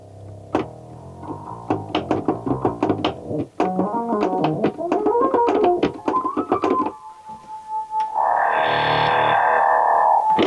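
ARP 2600 analog synthesizer sounds: a run of sharp low clicks and buzzy stepped tones, then a steady electronic pitch that swells into a bright, distorted sustained tone as the frequency rises.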